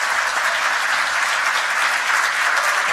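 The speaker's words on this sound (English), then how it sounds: "Let's give Dave a big round of applause" Dense, loud applause from a conference audience at a startup event, a continuous wash of many hands clapping evenly with no pauses.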